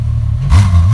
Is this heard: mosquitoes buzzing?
no